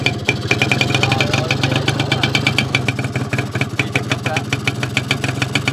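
A Yamaha Yaz motorcycle engine with a modified exhaust runs near the listener, a steady rapid two-stroke popping and crackling idle with dense, even pulses throughout.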